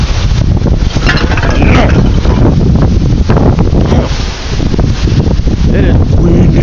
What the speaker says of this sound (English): So yeah, it is really windy out right now.